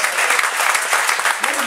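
Sustained clapping from a comedy-club crowd continues at full strength, a thick wash of hands with scattered shouts mixed in, close and even from start to finish.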